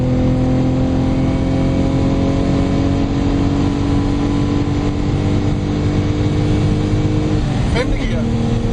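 A Lotus Omega pulls hard in fourth gear on a 0–300 km/h run, its engine droning loud and close with a steadily rising pitch, broken near the end by a brief shift-like dip in tone.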